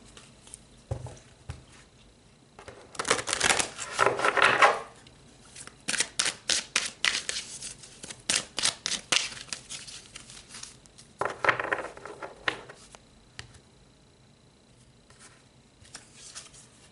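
Tarot cards shuffled and pulled from the deck, bursts of rapid riffling flutter and quick snapping slaps, close and crisp, in several separate rounds with quiet pauses between.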